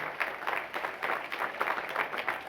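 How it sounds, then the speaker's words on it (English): A short burst of audience clapping for alumni achievement award recipients at a school ceremony, even and moderately loud throughout. "So let's have a final round of applause for all our 2025 Alumni Achievement Award recipients"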